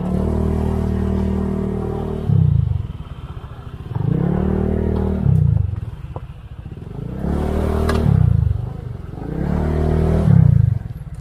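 A motorcycle engine rumbles steadily nearby as it is parked, swelling in four distinct revving bursts about every two and a half seconds, with clattering mechanical noise between.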